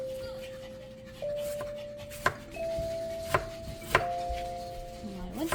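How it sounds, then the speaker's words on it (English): Apples being sliced with a knife, a few sharp, separate cuts landing against a board at uneven intervals, close, over a steady tonal whine and light background rustle, with brief faint voice or dog noises. "apple slicing ASMR"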